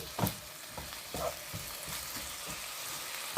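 Beef sizzles and is stirred in a frying pan for tortillas, a steady soft crackle with occasional scraping stirs, close but fairly quiet.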